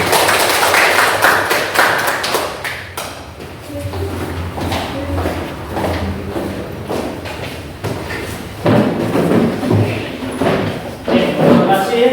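Classmates clap for a group after its presentation, starting with a brisk burst of applause, then thumps and scattered claps, with a second round of clapping later.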